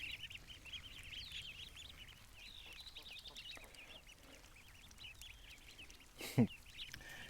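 Ducks quack faintly in the distance over a steady outdoor background, with a short louder burst near the end.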